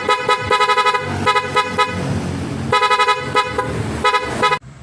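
A PIAA loud horn wired through an interrupter relay on a Honda Supremo motorcycle blares in rapid pulsing bursts, several runs of loud, close, chopped tones, then cuts off abruptly at the end.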